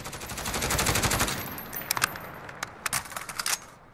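SIG SG 553 Commando rifle fires full auto in Call of Duty Modern Warfare, a rapid sustained burst that breaks into short clustered shots and single cracks, up close and loud.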